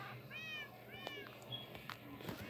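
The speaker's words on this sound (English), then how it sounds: "Just spawning cats and dogs everywhere." Cats meow in the Minecraft video game: a few short, fairly faint mewing calls in quick succession, with soft clicks and game noises between them.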